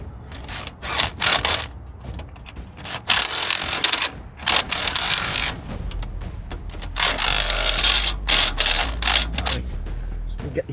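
A big breaker bar ratchet clicks sharply in quick irregular bursts while tightening a bolt, the close mechanical ticks coming in clusters against background clatter.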